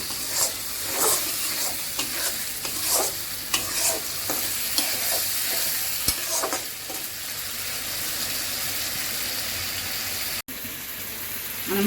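Masala with tomato stirred and frying in a pan, a steady close sizzle with repeated scraping stirs throughout, no voices.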